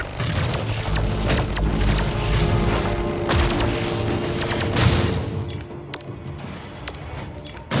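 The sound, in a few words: grenade explosion in Iron Marines video game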